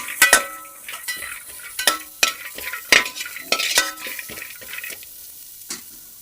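Grated coconut being lightly heated in a pan for a fish kulambu spice mix, with sharp scraping stirs and soft sizzling in irregular bursts, close and fairly loud, no talk.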